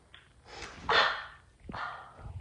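A puppy lets out a few short, high yipping barks in quick bursts, close and fairly loud in a quiet room.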